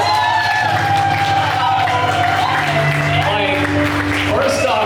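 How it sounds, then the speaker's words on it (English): An audience at a refugee youth poetry show breaks into close, lively clapping mixed with cheers and whoops, and voices are heard calling out over the applause. "can we get a round of applause?"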